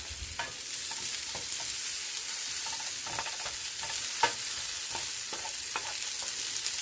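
Vegetables sautéing in a pan for a Santa Fe brown rice bowl, seasoned with salt and pepper: a steady hissing sizzle under light, irregular clicks of a spoon stirring, with no talking.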